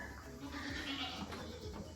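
A goat bleats inside a barn among other goats, a faint, distant cry half-buried in steady barn ambience.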